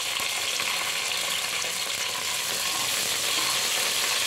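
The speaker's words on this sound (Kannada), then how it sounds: "ಸ್ವಲ್ಪ ಕರಿಬೇವು, ಒಂದು 4-5 ಹಸಿಮೆಣಸಿನಕಾಯಿ ಸ್ವಲ್ಪ ಫ್ರೈ ಮಾಡ್ಕೋಬೇಕು." Mustard seeds, crushed garlic, curry leaves and green chillies fry in hot oil as a sambar tempering, a dense, loud, continuous sizzle with faint crackles and no voices.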